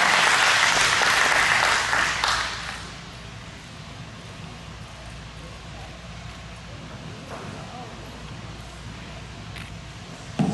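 Audience applause for fair queen contestants at a coronation, loud for about two and a half seconds and then dying away into a low room murmur with faint stray sounds.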